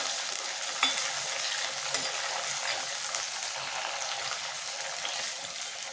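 Onions and curry leaves sauté in a pan for an elephant foot yam tamarind curry, producing a steady, even sizzle with soft stirring scrapes, close and continuous throughout.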